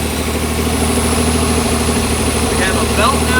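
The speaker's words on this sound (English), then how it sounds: "It idles down really nice" A lowrider car engine idles steadily with a low, even rumble and a faint high whine, loud and close.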